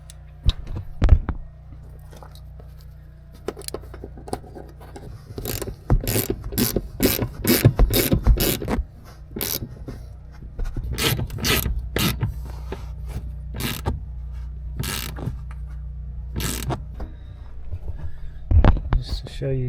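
Ratchet wrench turning the front bolts of an old vehicle bench seat: sharp, close metallic clicking in quick repeated runs, pausing between strokes, over a low steady hum.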